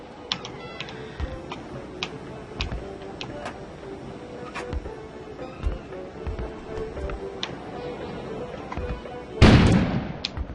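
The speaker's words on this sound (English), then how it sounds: "An explosion suddenly occurred outside." A sudden, loud booming explosion bursts outside in the video game Kona near the end. Before it, quiet, sparse ticks and clicks sit over a low background.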